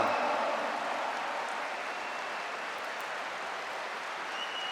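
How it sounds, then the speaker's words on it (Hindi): A large audience applauds at a motivational success speech in Ranchi with a thick, continuous roar of clapping that starts loudest and eases off slightly, with no speech over it. "जोरदार तालियां, जोरदार तालियां, जोरदार तालियां"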